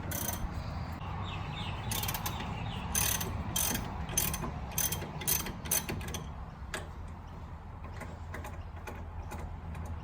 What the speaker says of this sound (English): we just got to undo this bolt here